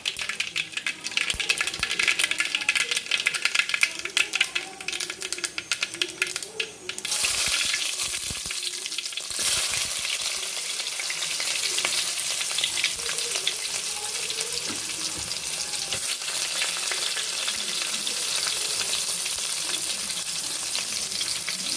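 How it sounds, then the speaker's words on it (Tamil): Vegetables tempered and sautéing in a pan, a loud continuous crackling sizzle with busy spattering at first that settles into a steady hiss, heard up close with no voices. "இப்போ நம்ம அங்கே தாளிச்சு விட்டு காயை கொஞ்சம் நேரம் வதங்க விடுவோம்"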